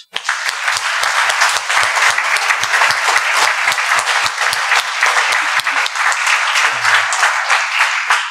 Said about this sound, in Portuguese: Vale uma segunda salva de palmas?